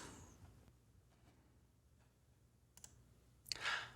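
Computer mouse clicks while creating an app on a developer web page, a few faint, sparse clicks over quiet room noise, with one sharper, louder click near the end.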